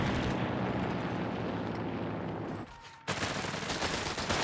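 Dense, continuous gunfire from a strafing run in the Company of Heroes 3 strategy game roars steadily, dips into a brief lull, then resumes at full intensity with a thick wash of rattling shots.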